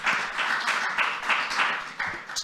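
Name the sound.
round of applause from audience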